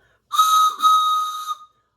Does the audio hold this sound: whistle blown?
yes